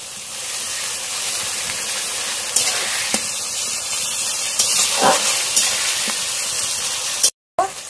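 Spices hiss and sizzle steadily as they fry with browned tomato and onion in a pan, a continuous close frying noise with occasional louder spits and stirring scrapes.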